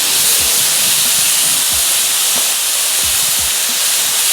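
Shrimp hitting a hot Camp Chef FTG600 flat top griddle for surf and turf, a loud, dense, steady hiss of sizzling up close with a few soft low thumps and no speech.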